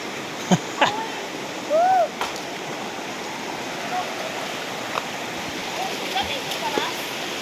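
Mountain water in Mindanao rushes steadily in the background, a constant loud roar, with a few brief whistles and clicks on top.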